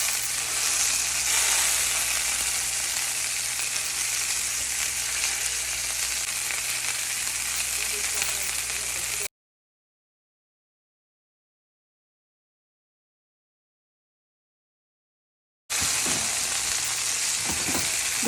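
Bone-in pork chops sear in a hot pan with a loud, dense sizzle. It cuts out to silence partway through, then the crackling sizzle returns with a few handling knocks.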